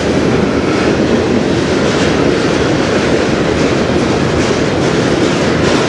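A CN freight train hauling truck frames passes close by on the Strathroy Subdivision, a loud continuous roar of rolling cars with rhythmic clickety-clack wheel beats and occasional wheel squeal.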